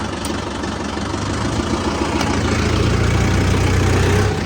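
A tractor engine idles steadily nearby in a field during potato sowing, a low throbbing rumble with a slight rise in loudness toward the end.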